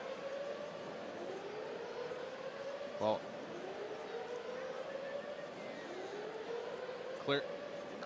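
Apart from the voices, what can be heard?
stadium sirens going off at baseball game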